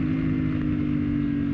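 A motorcycle engine drones steadily on a narrow, winding downhill mountain road, holding a constant loud hum close by with slight throttle variation throughout.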